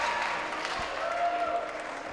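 Spectators at an IFSC Climbing World Cup bouldering semi-final in Toronto clapping and cheering steadily, a dense wash of applause held at an even level throughout.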